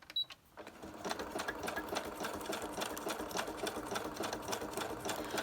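A sewing machine zigzag-stitching across a cereal-box liner, running with a fast steady needle rhythm after a brief start, close and alone.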